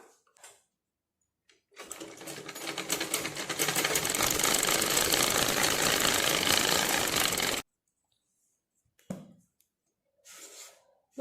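A sewing machine runs steadily for about six seconds stitching a blouse patti a quarter inch from the edge, a loud close mechanical whir, followed by a few short bursts of handling noise.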